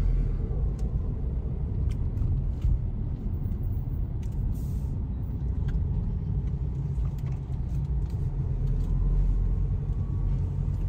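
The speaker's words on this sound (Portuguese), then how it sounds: "Um fluxozinho aí de carro." Cars pass along a road in Kayl, southern Luxembourg, in the afternoon, a continuous low rumble of engines and tyres with faint brake hiss, steady and moderately close.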